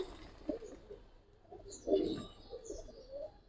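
Giribaz pigeons cooing close by, a few soft throaty coos in uneven rhythm over a quiet background, with faint brief chirps between them.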